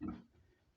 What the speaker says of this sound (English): These are what we call pigs.